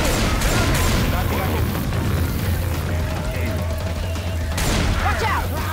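Rapid gunfire bursts and booms in the zombie shooter Left 4 Dead 2, loud and continuous with overlapping shots, while players shout over the shooting.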